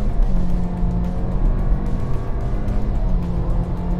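A Honda Civic with a CVT gearbox accelerating at full throttle in sport mode, its engine droning loud and steady throughout with a constant low rumble and no talk.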